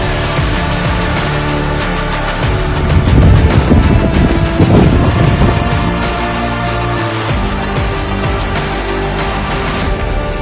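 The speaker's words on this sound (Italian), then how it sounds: "Raffiche di vento che possono arrivare a 80 km/h." Strong gusting wind buffets the microphone in the Mangistau desert of Kazakhstan, a steady roar with heavier surges in the middle, continuous and close throughout.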